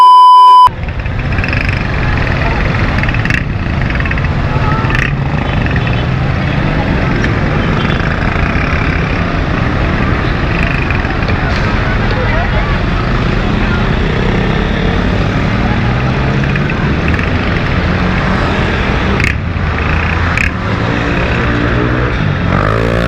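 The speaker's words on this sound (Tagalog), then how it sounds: "Ang ingay ng motor mo." A loud, noisy motorcycle engine roars continuously at close range, a steady, unbroken drone with a brief sharper burst at the very start.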